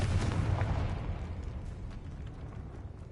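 A Confringo explosive spell blast in the Hogwarts Legacy video game, a loud rumbling boom at the start that decays into a long, fading crackle and tail.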